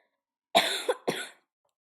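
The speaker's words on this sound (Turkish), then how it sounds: "Öksürmem gerekiyormuş." A single person coughs twice in quick succession, close and fairly loud, with a short throaty catch between the bursts and silence on either side.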